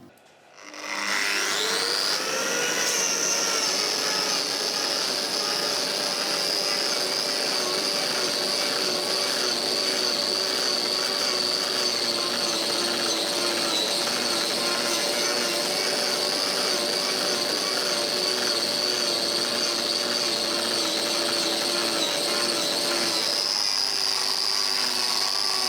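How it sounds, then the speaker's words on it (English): A turbo plane power carver grinding steadily into a wooden pumpkin, a loud, continuous high whirring rasp lasting throughout and easing at the end, with no talk. "we've whizzed off that bit with the turbo plane"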